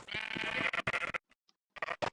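Several high, wavering Minecraft sheep bleats, close and fairly loud, with a short quiet gap before a final burst of bleating.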